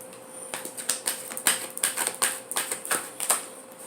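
Tarot cards being shuffled by hand, a quick run of crisp, irregular riffling clicks and snaps close up, with no talking.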